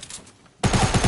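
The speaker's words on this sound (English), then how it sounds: "Shots." Fortnite gunfire, a quiet lull broken by a sudden burst of rapid shots, loud and close, firing in a quick regular rhythm.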